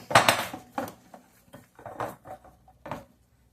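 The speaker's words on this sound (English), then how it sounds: "mix this all up" A spoon scrapes and clanks against a bowl while pepper stuffing is mixed by hand, giving several irregular bursts of clinking and stirring, close and moderately loud, with no talking.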